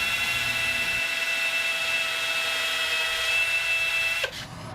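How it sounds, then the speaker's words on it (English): A steady, high-pitched electric drill whine runs continuously at close range as the drill spins a wooden rolling pin for hand sanding, then cuts off abruptly near the end. "my drill to spin the piece so I can sand it by hand"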